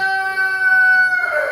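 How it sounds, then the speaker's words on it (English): Buff Orpington hens and a Barred Rock rooster in a barn give off steady, tonal clucking and crowing-like calls, close by and fairly loud with no talking. "buff-colored chickens are called Buff Orpingtons"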